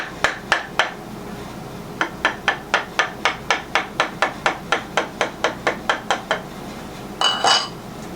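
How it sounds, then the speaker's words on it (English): A chisel works a small wood nip off a Les Paul-style guitar neck tenon, giving a steady run of about twenty sharp, close taps in two bursts, closing with a brief scraping rasp. "I get my chisel, I'm just going to pop it off."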